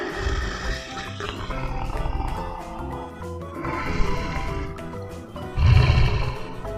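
Cartoon leopard letting out a growling roar, rough and loud, swelling in waves over several seconds with a strong deep burst near the end.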